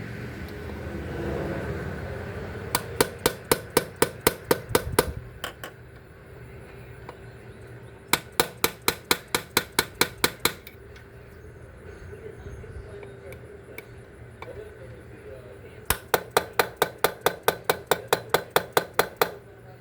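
Work on a 2010 Aveo intake manifold brings three separate bursts of rapid, sharp metallic tapping, each a quick even run of a dozen or so hits, with quieter pauses and a low background rumble between them.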